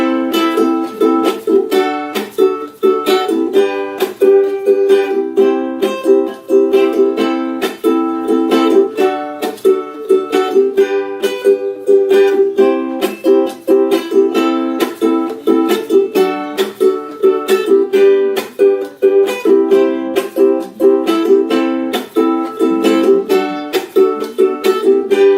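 Ukulele strumming the repeated chorus chords of a song, a steady rhythmic strum played close and loud, continuing alone without any talking.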